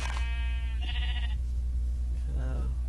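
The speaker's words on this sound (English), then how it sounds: "There's a lot of sheep here." Sheep bleat in Minecraft: two short wavering bleats, one early and one near the end, sit over a constant low hum of background noise.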